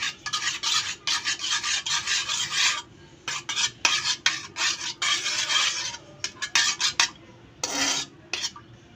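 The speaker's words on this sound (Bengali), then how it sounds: "আমি এখন এটাকে মিক্সড করে নিচ্ছি ভালোভাবে।" A utensil stirs and scrapes pizza dough ingredients with powdered milk in a bowl, giving steady gritty rubbing and scraping strokes in rapid bursts, close and fairly loud, with no talking.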